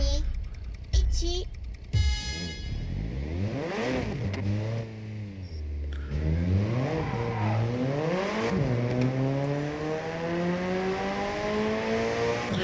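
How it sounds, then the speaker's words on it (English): Game car engines from Japanese Drift Master on PS5 rev and rise in pitch through repeated sweeping gear changes, loud and continuous, with a person talking over them at the start. "the cars do sound really nice"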